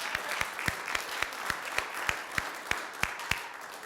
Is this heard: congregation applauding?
yes